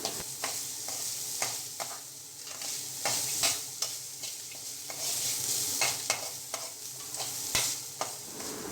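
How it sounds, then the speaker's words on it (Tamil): Grated coconut sautés in a pan under a quiet, continuous sizzle while a spatula scrapes and stirs in frequent short strokes, fairly soft and close, with no voices. "அதையும் எடுத்து போட்டு நல்லா வதக்கிக்கலாம்."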